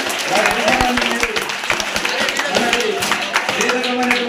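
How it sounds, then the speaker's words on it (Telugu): An audience claps at a school farewell meeting at ZPHS Bangarigadda, a dense burst of applause with sharp individual claps under ongoing talk. "ఒకసారి మీరందరూ గట్టిగా చప్పట్లు కొట్టండి"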